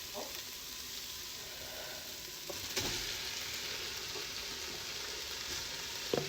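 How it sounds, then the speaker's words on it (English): Spicy and mild sausage hitting a soup pot for Zuppa Toscana, a faint, steady sizzle with a few soft knocks and a brighter crackle near the end. "now we're going to add our sausage in"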